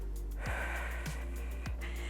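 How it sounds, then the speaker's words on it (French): Two deep breaths taken during an arm-based adapted cardio workout, faint, close and without talking over a steady low hum. "OK, 2 bonnes respirations."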